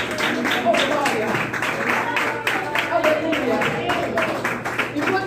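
Worshippers in a church clapping along in praise, steady rhythmic handclaps continuing throughout over voices and singing in a reverberant hall.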